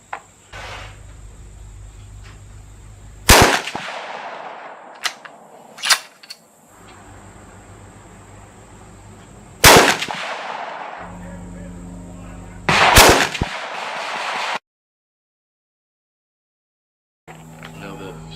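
Ruger American rifle in 6mm Creedmoor fired at a 100-yard ammo test: three loud, sharp shots spaced several seconds apart, each with a brief ringing tail, over steady outdoor background noise and small handling clicks.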